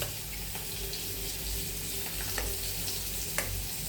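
Garlic and curry leaves sauté in hot oil for a dal tempering, making a steady moderate sizzle with a few sharp utensil clinks scattered through.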